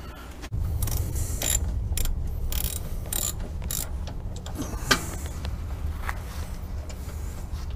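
A ratchet wrench breaking a brake caliper loose on a 2007 Acura, giving a run of close, sharp clicks and mechanical ratcheting over a steady background hum.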